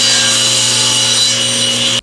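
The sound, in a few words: sawing wooden sanding block to length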